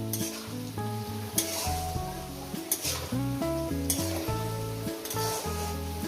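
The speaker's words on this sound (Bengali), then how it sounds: "আরও দু তিন মিনিট ভাজবো" Potatoes sizzle steadily in a pan, punctuated by occasional stirring scrapes, while melodic background music plays throughout.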